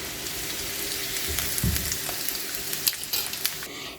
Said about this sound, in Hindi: इस तरह से मैं सारे ही चिकन स्टिक्स फ्राई कर लूँगी।